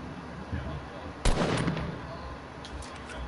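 A single sharp gunshot cracks out in the video game Fortnite, followed by a rumbling tail that fades over a second or so against low background noise.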